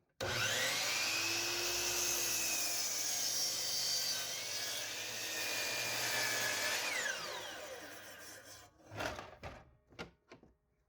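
A power saw whines steadily through wood for about seven seconds on an angled bevel cut while building a gaga ball pit, then winds down, followed by a few knocks and clatters of the workpiece.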